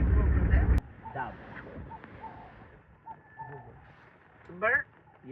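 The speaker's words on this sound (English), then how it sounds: "Dove." A dove coos softly in the southern African bush, the calls faint and scattered after a loud, brief burst of noise, with a sharper bird call rising near the end.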